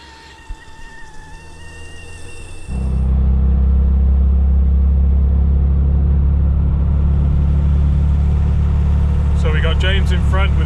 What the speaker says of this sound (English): James in front with his Series 3 200 TDI, me with a 90 with a 200 TDI, and then John behind with a Disco 200 TDI as well